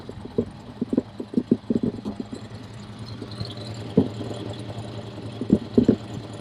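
A Chevrolet Camaro with an aggressive cam idles nearby, a low uneven lope broken by irregular chugging pulses, fairly quiet and heard alone.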